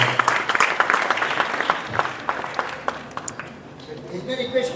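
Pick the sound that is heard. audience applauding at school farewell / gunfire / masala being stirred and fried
audience applauding at school farewell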